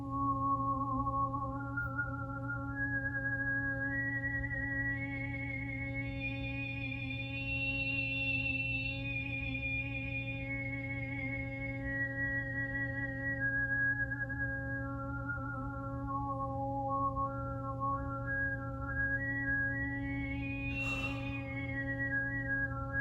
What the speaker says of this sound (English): Overtone singing is a voice technique where one person sings 2 notes at the same time.